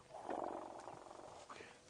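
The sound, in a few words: elephants communicating with low rumbles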